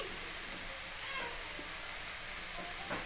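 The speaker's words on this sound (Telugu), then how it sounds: "మనము పచ్చని పప్పుని ఈ విధంగా మొత్తాన్ని ఇలా వేయించుకోవాలండి" Boiled lentils (dal) frying with panagantaku greens in a pan, a steady soft sizzle and hiss throughout with faint stirring scrapes, close and fairly quiet, no talking.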